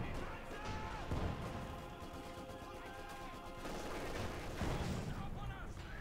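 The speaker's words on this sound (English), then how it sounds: "Cromwell's firing away" A Cromwell tank fires amid a Company of Heroes 2 battle, with dense overlapping gunfire, explosions and rumbling combat noise that stays loud and constant, and a voice talking over the din.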